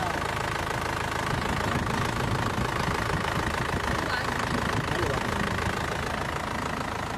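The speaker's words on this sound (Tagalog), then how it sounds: "Pag okay na, pa-start ko na itong makina" An Isuzu Crosswind engine runs steadily at idle after a loose belt was fixed, a close, continuous mechanical hum with a faint rhythmic ticking throughout.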